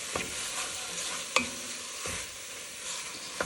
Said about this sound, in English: So we'll cook this at the same time the sausage is cooking.